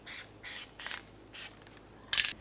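Parts cleaner is sprayed onto rear parking brake parts of a 1994-2002 Ram 2500, five short, sharp aerosol bursts in an uneven rhythm, close and clear with no talk.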